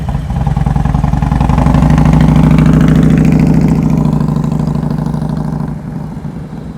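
Motorcycle engine during slow-speed riding practice, a steady low idle with light revving that holds loud and near for several seconds, then drops slightly as the throttle eases.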